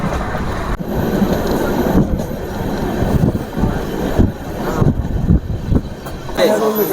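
The Sealdah Banaras Amrit Bharat Express passenger train rolls into Jasidih Junction at night, a loud steady rumble of rolling carriages with rising clanks and thumps up close, and talk mixed in.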